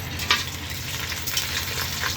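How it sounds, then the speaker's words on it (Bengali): Whole spices (bay leaf, cinnamon, black and white pepper, black and green cardamom, mace) sizzling in hot oil for khichuri, a steady close crackle with a brief sharper spatter early on. "তেজপাতা, দারুচিনি, কালো গোলমরিচ, সাদা গোলমরিচ, কালো এলাচ, সাদা এলাচ, জয়ত্রী, এগুলো সব এই তেলের মধ্যে এখন দিয়ে দেবো"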